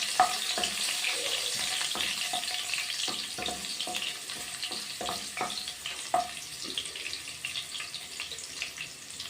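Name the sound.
garlic frying in hot oil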